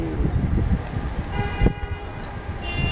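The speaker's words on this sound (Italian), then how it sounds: "sono arrivati l'ambulanza, è arrivata l'ambulanza" An ambulance arrives at a burning apartment building, its siren or horn tones rising out of a busy street clatter. Brief harmonic wails sit over steady traffic rumble and passing car noise, with no talk.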